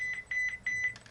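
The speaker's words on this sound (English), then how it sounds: "sorry, that's my phone." A mobile phone sounds a quick run of repeated high electronic beeps, close and fairly quiet, with no talking.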